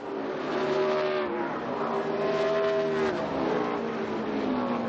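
NASCAR race cars roaring at Iowa Speedway on the final lap into turns 3 and 4, a loud continuous engine drone with rising and falling pitch as the pack passes, no talk.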